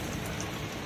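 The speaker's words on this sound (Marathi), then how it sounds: "खूप मोठ्या प्रमाणात पाऊस सुरू आहे।" Heavy monsoon rain falls steadily in Nashik, a dense even hiss of drops on surfaces filling the short moment with no voices.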